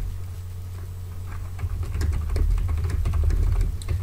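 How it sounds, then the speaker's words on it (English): Quick bursts of keystrokes on a computer keyboard, light close clicks starting sparse and growing into brisk continuous typing over a low steady hum. "I'm just typing something really quick here"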